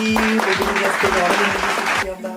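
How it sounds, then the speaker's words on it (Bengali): Brief burst of hand clapping, about two seconds of quick, close claps mixed with voices, then fading out. "ওকে, হাততালি।"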